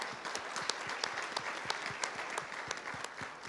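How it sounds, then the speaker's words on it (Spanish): An audience at a dinner event applauds speaker David Larenas with steady, dense clapping from a moderate crowd, even in level throughout and heard alone. "Un aplauso, por favor, para David Larenas."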